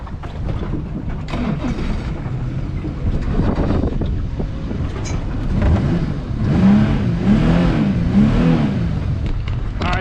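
Twin outboard motors on a hurricane-damaged Grady White boat run together with a steady, close drone under wind buffeting, the engine tone rising in pitch and warbling toward the end.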